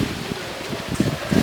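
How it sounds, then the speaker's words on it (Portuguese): Strong wind buffets a microphone outdoors, a constant rough rumble with irregular louder gusts, with no voices heard. "esse vento tá atrapalhando a minha vida"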